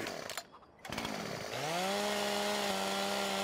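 Chainsaw in Farming Simulator 2015, a brief dip and sputter, then the engine revs up into a loud, steady high-pitched whine that holds to the end.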